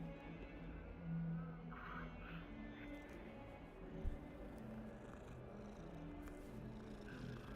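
A cat purrs softly in a Hogwarts video game, a low continuous rumble held throughout at a quiet level beneath faint background game ambience, with one brief thump midway and no talking.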